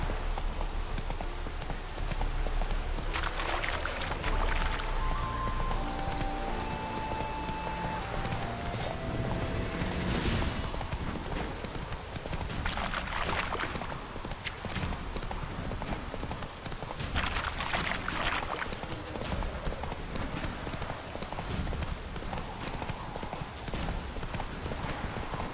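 Roach, the horse in The Witcher 3, gallops with a steady, rapid clip-clop of hooves that continues throughout, set against a rain-like hiss and a soft game score, with a brief neigh or snort partway through.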